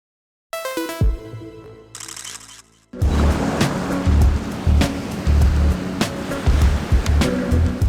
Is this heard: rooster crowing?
no